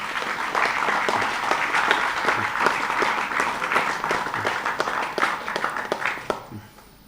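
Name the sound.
audience applause for debate teams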